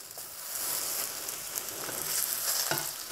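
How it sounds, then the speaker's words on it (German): Steady, close sizzling of liver frying in oil in a hot pan, a continuous crackling hiss with a few brief clinks, no voices. "Von der anderen Seite auch noch gerade ein bisschen anbraten lassen."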